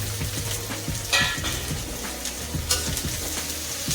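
Onions and masala fry in a kadhai for a Mithila-style arbi leaf curry, giving a continuous near sizzle with scattered stirring scrapes and occasional sharper spatters.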